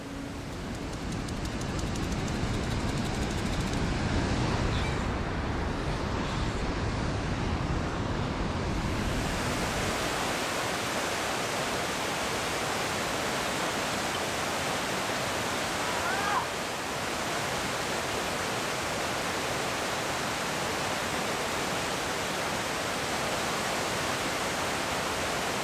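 A waterfall in the Blue Ridge Mountains of North Georgia roars as a steady, loud wash of rushing water with some wind buffeting on the microphone, continuous for the full length.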